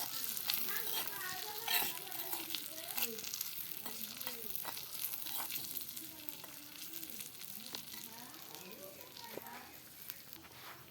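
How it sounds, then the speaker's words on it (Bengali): Potatoes frying in a pan for Bengali aloo bhaja, a steady close sizzle with occasional stirring clicks beneath someone speaking. "এবার আলু ভাজাটা ভাজছি।"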